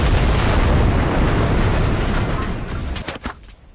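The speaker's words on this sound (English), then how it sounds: "I'm fucking getting gunned down by a fucking tank right now" A tank fires on the player in the World War II shooter Enlisted, heard as loud, sustained explosive booms and rumbling blasts that fade after a couple of seconds into a few sharp bursts.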